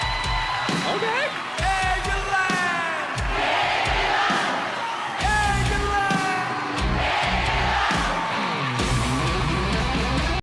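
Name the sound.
crowd chanting back in a song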